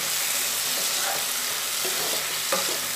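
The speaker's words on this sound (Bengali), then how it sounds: "মশলাটাকে ভালো করে ভাজা ভাজা করে নেব।" Spice paste (masala) frying in oil for a thin fish curry with ridge gourd, potato and lentil dumplings, a steady close sizzle with soft stirring scrapes at a few points, no talking.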